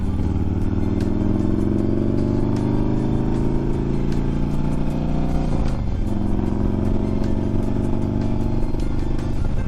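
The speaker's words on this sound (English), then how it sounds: "It feels good to be out on a motorcycle." A motorcycle rides along with a steady engine drone and wind rumble, the pitch rising and dipping as it shifts and accelerates.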